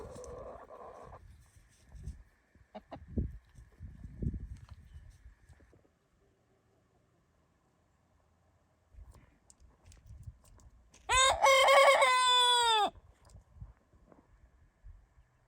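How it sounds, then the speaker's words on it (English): A single loud, harmonic rooster crow rings out on a homestead where chickens are kept, lasting under two seconds. Quieter scattered knocks and movement sounds come before and after it. "I'm keeping all of these chickens in here."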